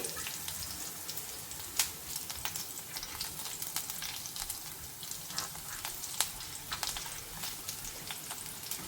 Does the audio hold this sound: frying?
yes